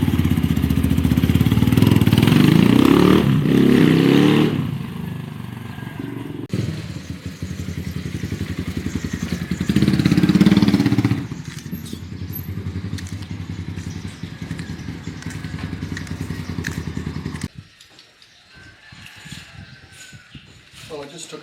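A Rusi Sigma SS motorcycle is ridden, its engine loud and rough at first, then easing to a lower steady putter with some clatter before dropping off toward the end; a voice talks over parts of it.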